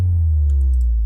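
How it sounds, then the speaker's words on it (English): A loud, sustained sub-bass tone slides slowly downward in pitch, a trap metal bass drop made in FL Studio, with faint high chirps flickering briefly near the middle, heard alone. "Right here I have a little bass drop"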